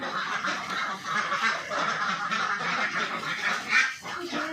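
Many ducks on a duck farm quack together in a dense, continuous chorus of overlapping nasal calls, steady and fairly close throughout with no one talking.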